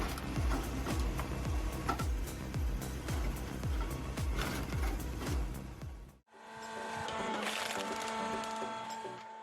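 A homemade automatic firewood processing machine with a wood splitter runs with repeated sharp wood-splitting cracks and clatter over steady machine noise, then shifts to a different mechanical whir and rattle after a short gap.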